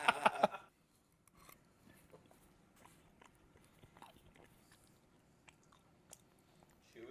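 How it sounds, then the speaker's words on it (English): Crunchy mango with habanero slices being bitten and chewed close up, a few sharp crisp bites at the start followed by quieter, irregular crunching and mouth sounds without talk. "The fucking mango is like crunching in my mouth like it's candy."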